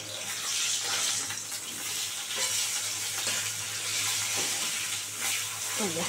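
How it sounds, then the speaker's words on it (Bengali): Foli fish (featherback) frying in a pan gives off a loud, steady, close sizzle of hot oil that runs unbroken from start to end, with no talking. "ভাজতে হবে মাছগুলোকে।"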